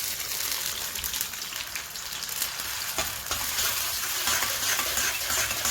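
Chopped large onion fries in a pot of hot oil for a mutton paya curry, a strong dense sizzle close up with a few stirring scrapes, steady and unbroken by any voice.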